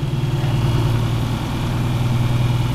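A vehicle engine runs steadily at low revs while creeping along in a low gear, a loud close continuous rumble with a smooth, even throb and no talking.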